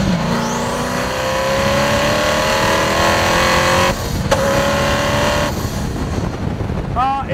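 A Hennessey Venom GT, a tuned supercar, roars loudly and steadily as its engine pulls hard under acceleration, with a brief dip and shift partway through and a short squeal near the end.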